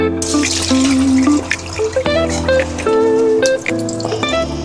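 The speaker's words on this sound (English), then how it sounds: "Salting completed, and we have to rinse it again, otherwise it will be too salty." Salted napa cabbage for white kimchi rinsed under a running tap, water splashing and trickling close by with wet squishing and clinking as the leaves are handled, no talking.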